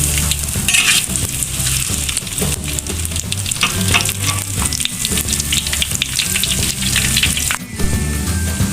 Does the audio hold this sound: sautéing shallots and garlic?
yes